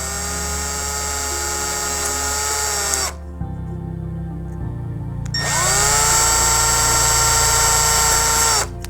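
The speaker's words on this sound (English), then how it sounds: "and I'm just going to drill those holes." A small-bit electric drill whines loudly and steadily as it bores holes for a homemade alcohol penny stove, stopping for a couple of seconds before starting up again.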